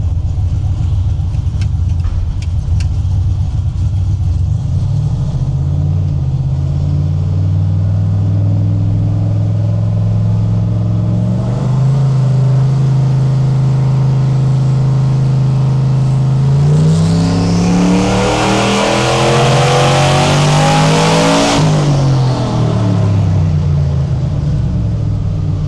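A 765-horsepower Mustang engine on Holley EFI and pump gas idles loud and close, then revs up once and settles back to idle, with no one talking.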